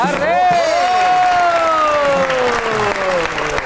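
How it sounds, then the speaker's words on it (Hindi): Studio audience applause greets an actress arriving on a talk show: a steady, loud wash of clapping throughout, with a sliding, descending musical tone riding over it. "आपकी बहुत सी तालियों में दी वन एंड ओनली रेशम"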